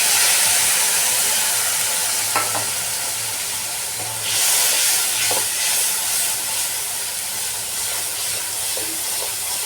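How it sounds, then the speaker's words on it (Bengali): Tomato and green chili spice paste with ground coriander, cumin, chili powder, turmeric and salt frying in oil for khichuri, a steady broad hiss and sizzle with a few faint clinks of utensils. "এটা এখন দিয়ে দেবো মশলাটা কষতে"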